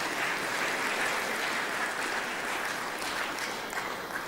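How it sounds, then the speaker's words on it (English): A banquet audience at a high school athletic awards night applauds steadily, a dense, even wash of many hands clapping that holds for several seconds without a break. "let's give him a round of applause for"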